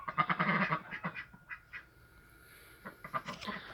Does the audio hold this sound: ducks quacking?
yes